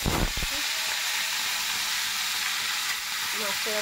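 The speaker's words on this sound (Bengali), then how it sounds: "তেলটা হয়ে গেছে, এখন আমি মাছটা ছাড়বো" Tilapia fish slides into hot oil with a sharp initial splash, then a dense, steady hiss of frying that holds close and even throughout.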